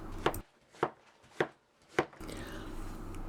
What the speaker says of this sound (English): I just find it easier to cut this way and a bit quicker